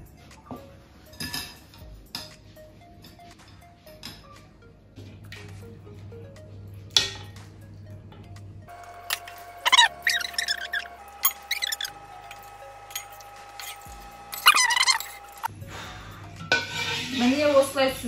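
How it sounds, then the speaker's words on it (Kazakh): Homemade cheese being strained from a pot through a sieve and cheesecloth, close clinks and scrapes of metal cookware and utensils, scattered wet squishes and a spell of trickling near the end, with no talk. "Қазаннан ірімшігімізді алып, дайындап қойған сетамызды қойып, соң сүзіп аламыз"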